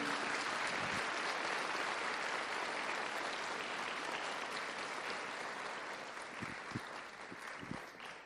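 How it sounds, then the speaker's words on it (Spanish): Congregation in a church service applauds in praise of Jesus Christ, a long, even wash of clapping heard from a distance, faint overall, with a few sharper claps near the end. "Denle un aplauso mejor al Señor Jesucristo"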